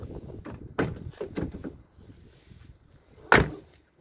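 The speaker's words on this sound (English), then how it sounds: "All the doors open and close." Car doors on a 1999 Hyundai Atoz open and close, giving several nearby latch clicks and thuds followed by one loud, sharp slam near the end, with quiet pauses between them.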